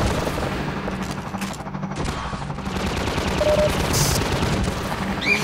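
Sustained automatic gunfire in Half-Life 2, a loud continuous rattle of rapid shots with a few booms mixed in, near and dominant throughout.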